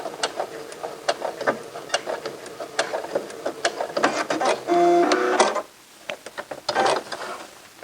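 Sewing machine back stitching at the end of a pants hem, a busy run of mechanical needle clatter with short bursts and a brief pause, close and fairly loud.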